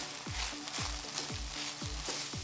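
Broccoli and thinly sliced white onions fry in a pan for beef and broccoli, giving a continuous close sizzle with a regular pulsing rhythm throughout and no talking.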